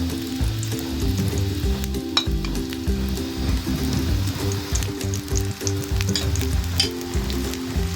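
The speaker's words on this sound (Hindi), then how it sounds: "और इसको अच्छी तरह सेक लेंगे।" An egg paratha fries in oil on a hot pan, giving a loud, continuous sizzle with crackles and occasional scraping, close and alone without talk.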